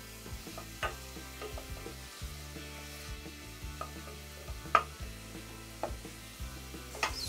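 A steady sizzle of onions sautéing in oil in a pot, with occasional stirring clinks and scrapes, close up and without talking.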